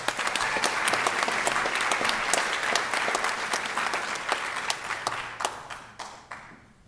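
A large audience applauds graduates at an engineering diploma ceremony, steady dense clapping that thins and fades out toward the end.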